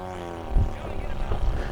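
Seagull Shock Cub RC model airplane flying slowly with one notch of flaps down, its electric motor and propeller giving a steady moderate drone with a few louder surges as the throttle eases.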